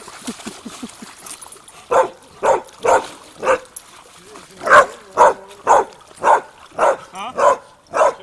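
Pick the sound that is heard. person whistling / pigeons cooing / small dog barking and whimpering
small dog barking and whimpering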